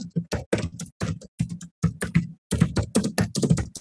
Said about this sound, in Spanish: silenciar el micrófono para no escuchar el teclado.